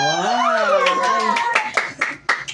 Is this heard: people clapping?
yes